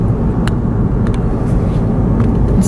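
Car rolling slowly through a full high school parking lot in Mississippi, a steady low engine and road rumble heard from inside the cabin, with a few faint clicks and no talk.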